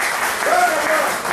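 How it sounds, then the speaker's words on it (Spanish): Spanish-speaking church congregation giving loud applause to Jesus during a sermon, a brief dense burst of clapping with voices and a sung or shouted tone rising over it. "Den un aplauso fuerte a Jesús"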